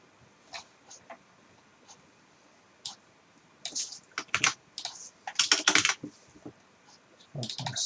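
Clicks from a computer keyboard as code is written, sparse scattered keystrokes at first that build into quicker, louder bursts of typing, close and clear.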